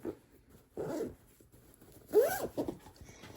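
A zipper on a handmade bag is pulled closed in a few short, quiet rasping strokes, close up, with soft handling noises between pulls.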